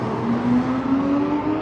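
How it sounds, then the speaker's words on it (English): Porsche 911 GT3 engine at the Porsche Experience Center in Atlanta, a loud sustained mechanical roar with a steady rising tone, continuous and fairly close, no talk over it. "that GT3 over there is loud. Super loud."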